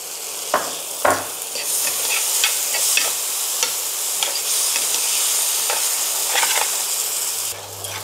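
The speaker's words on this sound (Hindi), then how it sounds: "इस तरह से ये भुन रहा है" A spice paste with fennel and cumin powder sizzles steadily in a hot pan while a utensil scrapes and stirs it, with occasional clinks against the pan.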